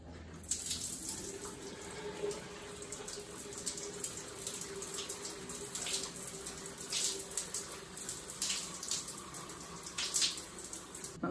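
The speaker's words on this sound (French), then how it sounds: "Je vais rincer tout ça." Water runs steadily from a tap while short hair is rinsed during a wash day, a continuous splashing gush with shifting spatters and no talk.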